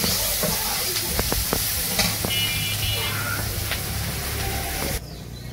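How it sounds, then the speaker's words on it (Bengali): Onions frying in a pan for a village-style pabda fish curry give a steady, close sizzle, broken by a few sharp scraping stirs before it quietens near the end. "পেঁয়াজ ভাজা হয়ে গেছে"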